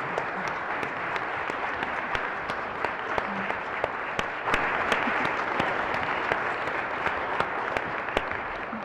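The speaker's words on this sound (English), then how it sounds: "Let's give them a big round of applause" Steady applause from a conference audience thanking panelists at an animal law litigation session, even and continuous for several seconds with scattered crisp individual claps, moderately distant.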